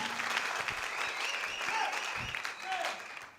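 A church audience breaks into sustained applause, a dense wash of clapping that is moderately loud and continuous, with cheering voices and talk mixed underneath.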